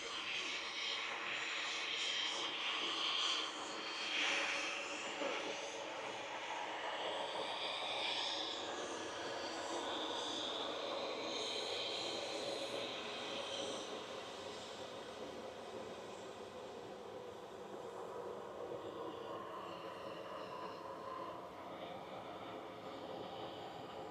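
Airliner jet engines at Manchester Airport produce a distant, sustained roar that stays broad and steady and slowly eases off over the stretch.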